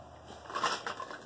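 An empty Japanese Cherry Blossom shea body butter container drops into a trash bin, giving a short, faint plastic clatter and rustle with a sharper knock at the end.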